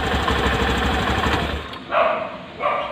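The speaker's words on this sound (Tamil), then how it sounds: "வண்டி ஆஃப் பண்ணுறேன்" A BS6 vehicle engine with a starting problem runs with a rough, pulsing idle, then cuts off about halfway, leaving brief bursts of other noise after it stops.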